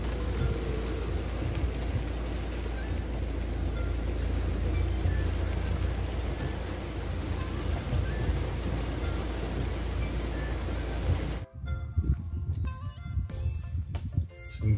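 Rain falls over village farmland planted with ginger and maize, a dense steady wash with low rumbling thunder underneath, until the sound cuts abruptly near the end to a quieter, sparser texture.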